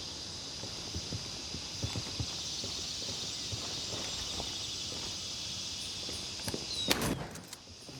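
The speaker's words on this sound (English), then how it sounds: "I hear more footsteps inside." Footsteps inside a building in the video game Gray Zone Warfare at night, a series of soft, irregular steps over a steady background hum, fairly faint, with a louder sharp impact near the end.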